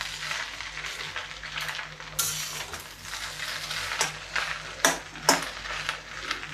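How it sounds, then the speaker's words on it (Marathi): A spoon and turner work through freshly cooked tempered rice (phodnicha bhaat) in a pan, making a steady soft sizzling hiss with scraping strokes and a few sharp metallic taps against the pan. "आता आपण मिक्स करून घेऊया परत एकदा"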